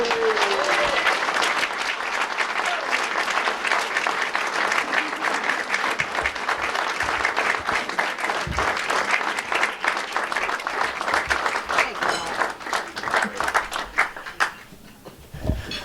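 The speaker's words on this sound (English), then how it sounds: "How about a round of applause?" A room of guests at a Chamber of Commerce evening gives dense, steady applause for about fourteen seconds before it tapers off at the end.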